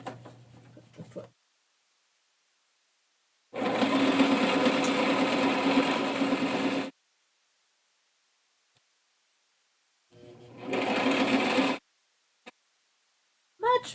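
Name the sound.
sewing machine stitching a zippered pouch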